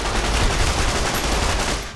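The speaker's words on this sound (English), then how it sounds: "We have a little 9mm submachine gun." A 9mm submachine gun resembling a compact World War II grease gun fires in Fallout: New Vegas, a loud, close, continuous rattle of rapid automatic shots lasting about two seconds.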